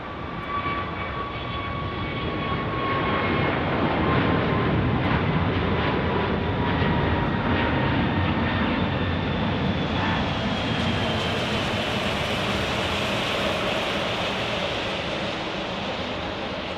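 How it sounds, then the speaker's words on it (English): An American Airlines airliner taking off from Phoenix Sky Harbor International Airport roars steadily, its engine noise swelling and then holding as it climbs away with a whining tone that drifts, heard at a distance with no talk. "And taking off, we have American Airlines."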